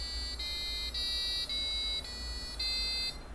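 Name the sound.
piezo buzzer playing do-re-mi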